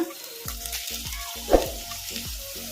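Spinach frying over a medium flame for a buttermilk sambar, a soft continuous sizzle with a rhythmic series of spatula scrapes and stirs in the pan, close and alone.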